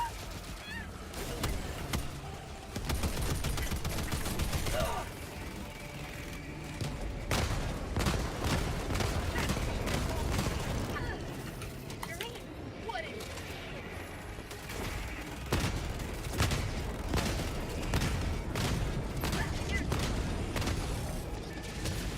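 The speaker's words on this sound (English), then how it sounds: "I would not recommend the flak autocannon against them" Flak autocannon fire in Helldivers 2 during a fight against the Illuminate invasion, rapid repeated booming shots in bursts amid chaotic game effects, with players talking faintly underneath.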